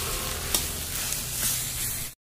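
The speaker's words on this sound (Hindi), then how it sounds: "अब इसी में हम आलू के साथ इसे हम भून लेंगे।" Mashed potato mixture frying in a pan, giving a soft continuous sizzle with a couple of light stirring knocks, close and fairly quiet, cutting off abruptly at the end.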